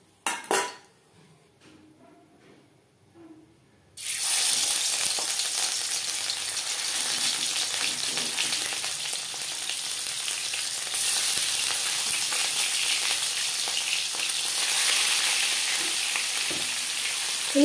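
Fish frying in a well-heated kadai (wok) over high flame for a Bhola fish curry: after a few quiet seconds with faint clinks, a loud, steady hiss and crackle of frying starts and continues without pause, with no speech.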